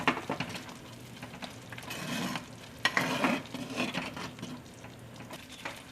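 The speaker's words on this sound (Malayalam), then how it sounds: "ഇപ്പൊ കറി നന്നായിട്ട് തിളച്ചു തുടങ്ങിയിട്ടുണ്ട്" Thick kalan curry bubbling and sizzling as it boils in a pot while a spoon scrapes and stirs in uneven strokes, close by, with no voices.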